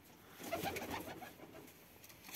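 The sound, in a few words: pigeons cooing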